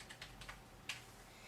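USB computer keyboard for a Raspberry Pi being handled, a few faint, soft key clicks and taps in quick succession, close but quiet against a low background hum.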